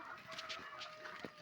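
Chickens cluck nearby, several short soft clucks in an irregular pattern over a steady low background, fairly faint.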